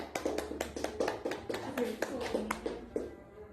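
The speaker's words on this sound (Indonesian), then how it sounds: "beri tepuk tangan untuk kelompok 3" Students in a classroom give a round of applause for a group, about a dozen distinct claps in an uneven rhythm, fairly quiet, under some background talk.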